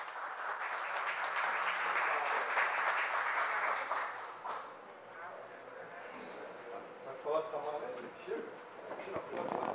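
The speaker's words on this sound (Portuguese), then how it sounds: "Uma salva de palmas." Applause at a municipal council session, with clapping that is moderately loud for about four seconds, then fades and is mixed with voices and room noise.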